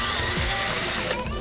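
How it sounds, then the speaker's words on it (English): A power drill whines steadily while boring pilot holes for fitting a carbon fiber lip on a Lexus NX200t, close and loud, cutting off abruptly near the end. "Just drilling some pilot holes"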